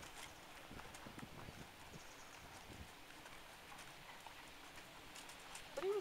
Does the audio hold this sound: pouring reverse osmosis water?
no